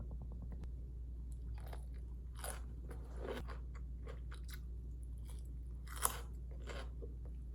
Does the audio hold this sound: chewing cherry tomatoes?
yes